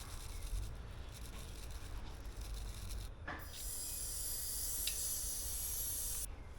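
An aerosol can hisses in bursts over a cluttered workbench during repair work on a 2002 Ford F250, with a long loud continuous spray in the second half after fainter scrubbing and rubbing, close and without talk.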